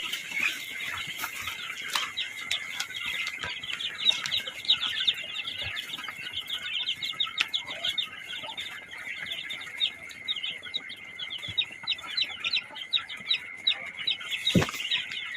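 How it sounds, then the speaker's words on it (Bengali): A dense chorus of high peeping and soft clucking from many native (deshi) chicken chicks on a farm, steady and close, with a bird chirp and faint background hum. "পাশে আছে দেশি মুরগি বাচ্চা"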